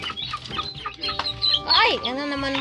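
Chickens cluck close by with short repeated calls, and a louder rising squawk stands out near the end, while faint voices talk in the background.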